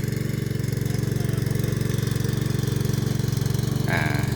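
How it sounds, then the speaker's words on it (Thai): An engine-driven water pump draws water from a freshly dug pit about two metres deep, its motor chugging in a steady, rapid, close-up drone that runs without a break. "ตอนนี้เราก็ ทำการสูบ น้ำที่ เราเจาะแล้ว"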